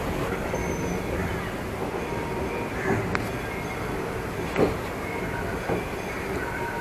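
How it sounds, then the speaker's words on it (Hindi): Utsarg Express pulling out of Aishbagh railway station in Lucknow, a steady close rumble of rolling wagons with a few brief squeals and clanks rising over it. "तो चलिए दिखाता हूँ मैं आपको ट्रेन का डिपार्चर।"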